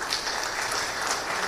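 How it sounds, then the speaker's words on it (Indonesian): An audience at an Indonesian panel discussion claps together in steady, dense applause, moderately loud and continuous through the brief moment with no voices over it. "Boleh tepuk tangannya?"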